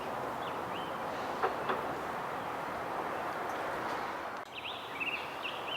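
A steady low rumble of a train rolling along the tracks, with faint bird calls chirping over it.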